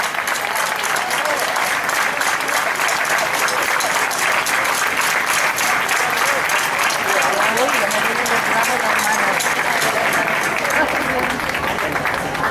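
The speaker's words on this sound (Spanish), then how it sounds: "Ese aplauso para la rondalla" Sustained audience applause for the rondalla at a national folk festival in Torrent, steady and dense from start to finish, with some voices mixed into the clapping.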